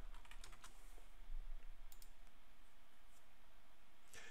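Code being typed on a computer keyboard: a quiet run of soft, rapid key clicks in bursts with short pauses, close and alone, with no talking.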